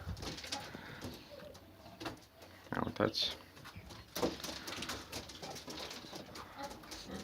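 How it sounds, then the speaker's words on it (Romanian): Pet pigeons cooing in a loft, soft low repeated coos up close, mixed with wing flutters and shuffling, while someone talks briefly over them. "Să vedem cum cântă și porumbei."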